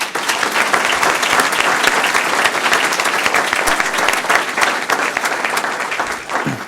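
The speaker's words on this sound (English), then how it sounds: "please give me a round of applause for Tim Leaf." A school board meeting audience applauds steadily for several seconds, a dense, loud patter of many hands that tapers slightly at the end.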